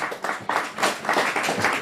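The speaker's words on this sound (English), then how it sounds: "yes, a round of applause," An audience applauds at a prize presentation during a televised quiz grand finale in Ghana, a short, lively burst of many hands clapping close by.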